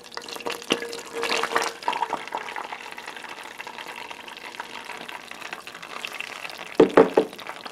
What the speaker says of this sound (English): in my saucepan I've melted 1 cube of butter, and to that I'm going to add a cup of heavy whipping cream